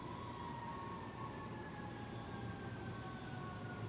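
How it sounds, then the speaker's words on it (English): A fire truck siren outside in a residential subdivision, a faint, steady wailing tone drifting through a low background rumble, distant and muffled, with no talk. "I think that fire truck's coming in my subdivision"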